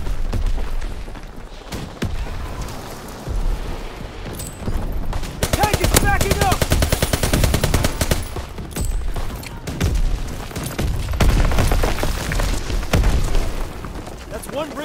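Heavy gunfire and booming explosions from a World War II tank battle in Call of Duty WWII, with rapid machine-gun bursts and repeated blasts, loud and dense throughout, while shouted voices call out over the fighting.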